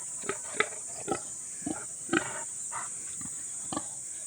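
A heavily pregnant pet pig, close to farrowing and just finished eating, grunts in a series of short, low snorts spaced irregularly at close range over a steady background hum.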